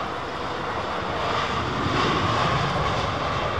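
Jet engines of a freighter aircraft at London Heathrow Airport, a loud, continuous broadband roar that grows slightly and holds steady, heard up close without voices.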